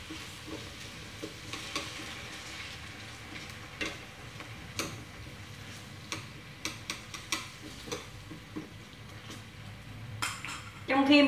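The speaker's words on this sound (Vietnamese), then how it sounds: "Mình chiên khoai tây mình để lửa nhỏ với các cháu ạ." Potatoes fry in a pan over low heat while cutlery and utensils clink and tap now and then, with a steady faint sizzle beneath and a louder clatter near the end.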